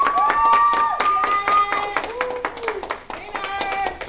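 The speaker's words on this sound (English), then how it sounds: "let's clap in celebration of the victory that just happened in this place for her" An audience claps in celebration of a victory, with steady, rhythmic hand claps running beneath loud, sustained voices calling and cheering throughout.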